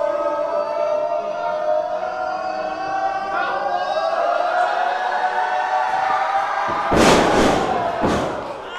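A wrestler is slammed to the mat after a delayed vertical suplex at a pro wrestling championship match, a heavy crashing thud followed by a second impact over a loud, sustained crowd roar.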